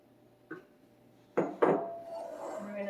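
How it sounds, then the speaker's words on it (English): Oats being stirred into a baking mixture in a bowl: a light knock, then two sharper clunks against the bowl followed by a soft scraping stir, close up with no talking. "We're going to mix that in all together here."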